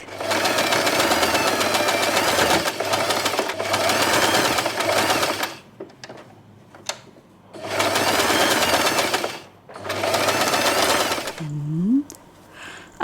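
A sewing machine stitches a satin hair bow in loud, fast bursts, several runs separated by short pauses and rustling, ending with a brief squeak.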